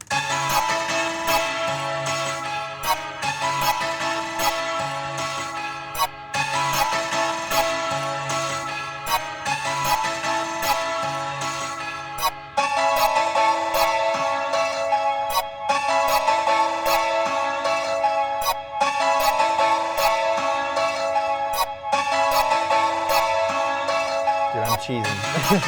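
Melody of a song played as a full layered electronic arrangement, with dense sustained synth chords and steady rhythmic hits throughout, loud and continuous, no talking.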